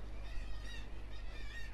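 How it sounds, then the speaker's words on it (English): Seagulls call in the medieval video game The Pillars of the Earth: several wavering, high cries rise and fall in two short bursts over a steady low ambient rumble. "The sound of the seagulls, brilliant."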